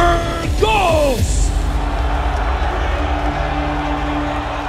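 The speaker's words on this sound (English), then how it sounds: "You hear the love from the crowd for Shane Burgos." An arena crowd at a PFL MMA event in New York roars loudly and without pause as a fighter walks out to the cage. A brief shout rises over the dense cheering.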